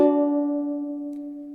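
A single ukulele upstroke strum rings out clearly, its chord sustaining and slowly fading with no other sounds.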